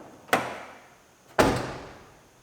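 Two solid thuds from the back door of a 2006 GMC Sierra pickup being worked on, sharp impacts about a second apart with short ringing decays, no talk.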